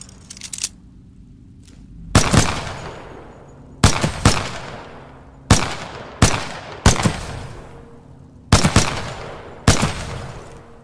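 Single gunshots at a shooting range in the video game Titanfall 2, loud sharp reports fired one by one or in close pairs with short pauses, each trailing off in echo over a quiet range hum.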